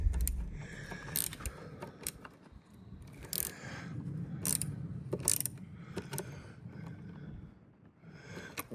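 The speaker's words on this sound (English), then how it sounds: "now I've got the little ratchet" A small ratchet wrench turned in quick bursts, close clicking runs of the pawl repeating every second or so, fairly quiet.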